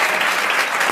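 A crowd claps loudly and steadily, a dense burst of applause with no talking.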